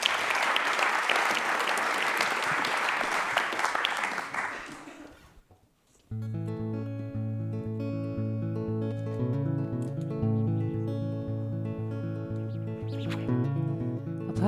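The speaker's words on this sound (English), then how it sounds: "Give them a warm applause." Warm crowd applause for the guitar performers swells and then fades out over about five seconds, giving way to guitar music.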